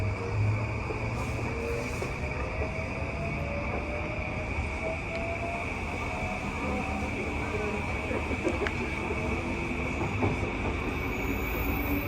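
An E235-1000 series train runs at speed on the Sobu Rapid Line between Funabashi and Ichikawa, a loud steady roar of wheels and motors with a constant high whine, heard from inside the car.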